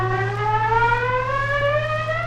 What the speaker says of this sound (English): First gliding chords on reed box tone tool